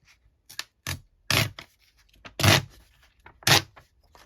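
A page from an Alice in Wonderland book being torn, in about six short, close, crisp rips of paper separated by brief pauses.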